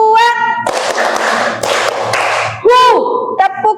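Students clap together in a rhythmic cue-clapping game, dense bursts of claps around a teacher's voice calling out in a lively classroom.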